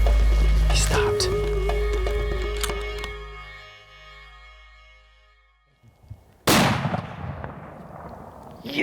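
A single loud rifle shot rings out at a whitetail deer buck on a Montana hunt. It follows a quiet, fading stretch and is followed by a rolling echo across open country.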